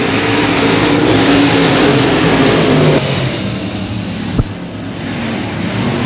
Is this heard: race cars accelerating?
yes